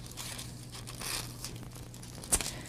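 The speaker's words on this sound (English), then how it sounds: "Now I'm going to use my tissue, metallic tissue, and I'm going to cut strips" Metallic tissue paper being handled for cutting into strips for gift wrapping gives soft, close rustling crinkles, with one sharper crackle near the end.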